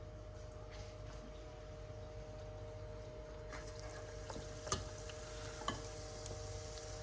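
Potato chop pakora, thinly sliced, frying in oil over medium-high heat, giving a steady, fairly quiet sizzle with a few soft clicks and pops near the end.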